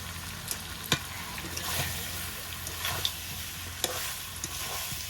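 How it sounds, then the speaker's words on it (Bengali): Potato curry masala with garam masala sautés in a pan for a vegetarian drumstick, potato and pumpkin dish. The close sizzle is steady, broken by the clacks and scrapes of a spatula stirring the thick mixture. "এই যে ভালো করে কষিয়ে নিয়েছি, এখন একটু গরম মশলা দিয়ে তারপরে দিয়ে দেবো জল"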